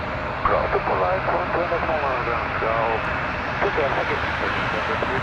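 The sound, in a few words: Embraer 175 airliner, Jazz flight 556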